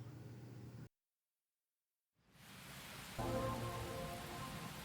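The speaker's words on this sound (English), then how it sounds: "More rain." Rain falls in the video game Master Detective Archives: Rain Code as a steady, soft hiss. It cuts to silence for about a second, then fades back in with a low hum beneath the downpour.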